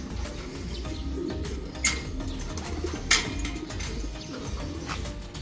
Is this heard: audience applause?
no